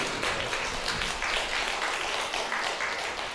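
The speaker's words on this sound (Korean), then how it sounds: "큰 박수로 환영하겠습니다" Steady, dense applause from a church congregation, sustained evenly throughout with no talking over it.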